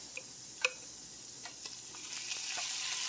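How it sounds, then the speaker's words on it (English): Minced garlic hitting a hot skillet of onions while sautéing cod, a soft steady sizzle with a few sharp ticks and pops, the frying hiss swelling slightly toward the end, no voices. "Let's put some garlic in there."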